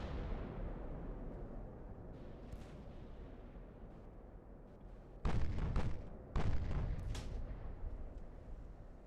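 Distorted naval artillery fire from the warship game Ultimate Admiral: Dreadnoughts, two heavy booming salvos landing close together over a steady low rumble of battle ambience.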